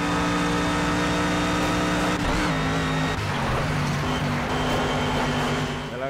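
A Mercedes AMG GT3 race car in the Project Cars video game roars at high revs at the Nürburgring, a loud, steady engine tone with a brief gear-change dip midway, no voices.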